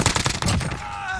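Gunfire rattles in a Warzone Rebirth Island match: a quick, loud burst of automatic shots, then a fading ringing tone as the firing stops.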